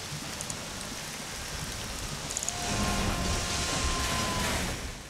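Steady rain in Rollercoaster Tycoon 3, a continuous broadband hiss that swells slightly partway through, with faint tonal hums and soft clicks beneath and no talking.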